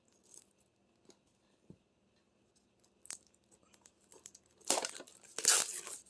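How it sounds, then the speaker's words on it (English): Scissors cutting open the sealed plastic packaging of a watercolor paint box, a few faint snips and crinkles early on, then two loud bursts of crackling and tearing wrap near the end. "I'm going to have to use the scissors."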